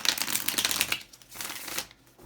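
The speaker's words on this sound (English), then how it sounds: "we'll do another shuffle. I'll get these cards" Tarot cards being shuffled, a close, crisp riffling flutter that comes in bursts, then settles into softer rustling before fading out.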